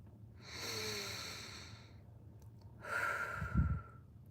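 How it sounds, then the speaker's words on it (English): A slow, deep breath during guided meditation: a long, soft airy inhale, a pause, then an audible exhale ending in a low breathy rumble, close and quiet with no talking. "let's take a deep breath"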